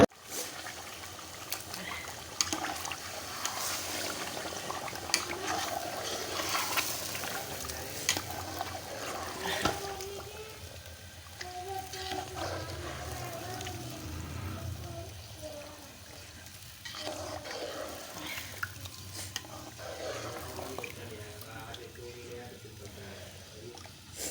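Beef pasande pieces sizzle in hot oil with fried onions while being stirred, a steady crackling hiss that runs throughout with a voice talking over it.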